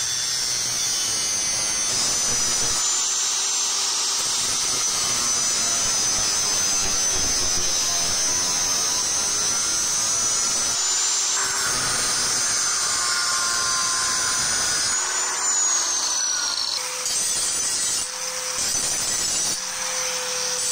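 An angle grinder with a cutting disc cuts metal in a workshop, giving a continuous loud high-pitched whine and screech that shifts in pitch as the disc bites, running steadily throughout with no talk.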